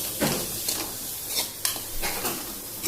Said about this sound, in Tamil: நல்லா வறுத்து எடுத்துக்கலாம்